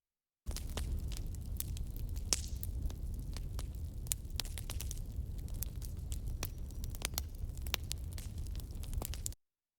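An outdoor bonfire crackles and pops steadily, with sharp irregular snaps over a soft low rumble, close and continuous throughout, no voices.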